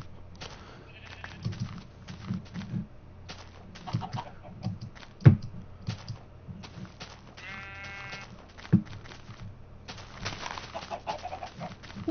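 Minecraft chickens on a chicken farm give scattered soft clucks and squawks, with quiet game noises and a couple of sharp clicks between them.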